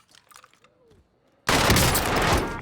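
Heavy, sustained video game gunfire bursts in suddenly after a quieter stretch of faint radio chatter and stays loud and dense to the end.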